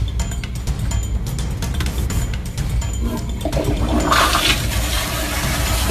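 A toilet flushes with a loud, gushing rush of swirling water that carries on for about six seconds, alone with no talking.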